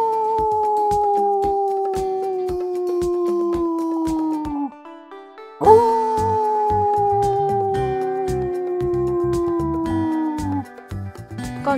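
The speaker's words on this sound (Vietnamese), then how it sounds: "Con cáo." A fox calls in two long, wavering howls, each sliding slowly downward in pitch, loud and close with a short gap between them and no other sounds.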